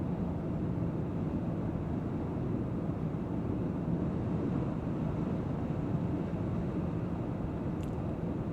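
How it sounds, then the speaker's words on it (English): Inside the cabin of a 2024 Range Rover Sport P400 at highway speed, a steady broadband rush of wind and road noise holds constant throughout, with no talking. "there is a fair amount of wind noise that's making its way into this cabin"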